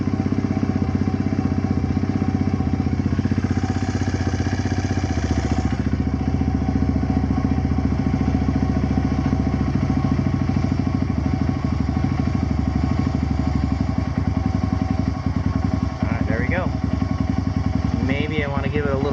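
Kawasaki KLX140 dirt bike engine fitted with a KX65 carburetor, idling steadily right after its first startup; a close, continuous rumbling idle with a faint voice over it.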